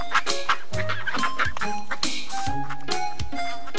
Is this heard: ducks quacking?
yes